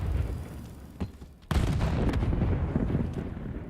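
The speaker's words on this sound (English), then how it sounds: "A lot of frags going off in the background there" Frag grenades exploding in a Call of Duty match, a sharp boom after a muffled thud, then a sustained rumbling wash of blasts and gunfire in the background.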